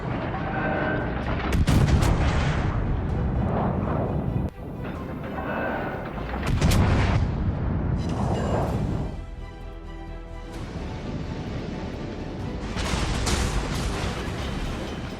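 HMS King George V battleship main guns firing in a naval video game, heavy booming salvos rolling out at intervals with rumbling echoes and lingering battle noise between them.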